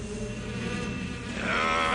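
Bees buzz around a boss character in Metal Gear Solid 3 Snake Eater (2004), a dense, continuous droning hum that swells louder toward the end, with no talking.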